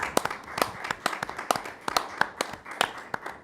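Sparse applause from a small group at a school committee meeting, a handful of distinct close claps in an uneven rhythm lasting a few seconds, with no voices over it.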